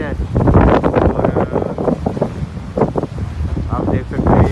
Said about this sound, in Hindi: हवा बहुत तेज़ है, साथ में बारिश है।